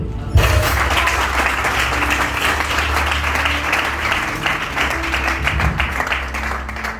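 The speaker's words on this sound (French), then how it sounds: "Si tu es béni, acclame Dieu." A church congregation at a French-language service breaks into sustained, loud applause and clapping that fills the room evenly from start to finish.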